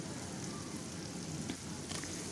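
Onions frying in oil with salt, a soft, steady crackling sizzle heard up close but faintly over a short stretch, with no one speaking.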